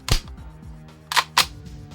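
A Vorsk VMP-1 airsoft gun fed from a top-loaded KWA magazine fires three sharp, snappy cracks close by, one early and then two quickly together, with a faint mechanical hum running underneath.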